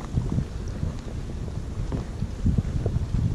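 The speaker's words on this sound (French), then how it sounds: "avec un vent de fou" Strong wind gusting over a lake while fishing, a constant rough buffeting roar of wind on the microphone with low rumbling throughout and no talk.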